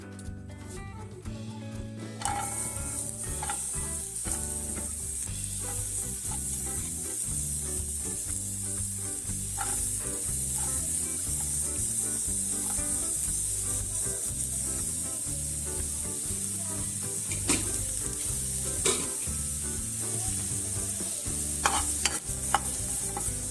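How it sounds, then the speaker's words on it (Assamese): Onion, ginger, garlic and chilli dry-frying in a pan without oil over low heat, a steady close sizzle and hiss carrying on throughout with scattered stirring clicks and scrapes. "এনেকৈ কম জুইত গোটেইখিনি বস্তু ভাজি ল'ব"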